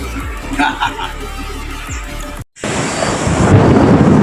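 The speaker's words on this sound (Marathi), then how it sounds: "संध्याकाळी 6 वाजता पाऊस सुरू" Voices and rumbling give way after a brief gap to a loud, dense rush of heavy evening monsoon rain that continues steadily.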